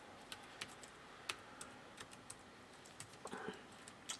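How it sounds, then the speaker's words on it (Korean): Keystrokes on a small computer keyboard, faint and close, tapping at an irregular steady pace with no talking. "저도 지금 작은 자판으로 치다 보니까 좀 헷갈리는데"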